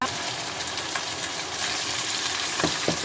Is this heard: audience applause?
no